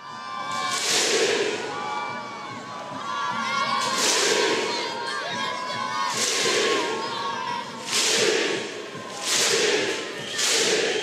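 A stadium crowd at Nice's final match at the Ray claps in unison, broad bursts of applause swelling and fading in a steady repeating rhythm, mixed with cheering and shouts across the stands.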